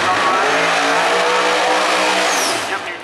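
An El Toro drag race car at a PDRA event at Maryland International Raceway roars loudly through the water box with tires spinning and hissing. The harsh blare fades toward the end, with an announcer audible in the background.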